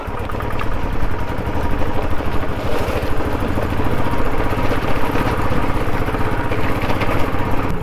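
A motorcycle rides over a badly potholed road on the way to Reetha Sahib Gurudwara, its engine a loud, steady, close buzzing drone with rattling and bumps throughout.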